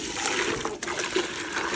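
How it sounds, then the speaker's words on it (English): Soup stock and bones from a Chinese fuzzy melon soup, simmered nearly two hours, poured into a larger pot, giving a steady close splashing and trickling pour that runs continuously for under two seconds without talk. "I'm going to transfer the soup and the bones into a larger pot."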